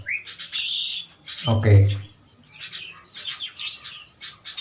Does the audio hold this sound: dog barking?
no